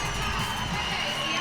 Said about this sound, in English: So the Zimbabwe crowd, well, they never need an excuse to party